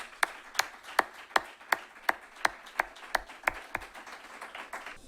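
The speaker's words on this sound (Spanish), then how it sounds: "Voy a pedir un fuerte aplauso para las ponentes" Sparse, evenly spaced hand claps from a small audience at a sports psychology conference, about a dozen sharp claps in a steady rhythm, moderately near and fairly faint, with no talking.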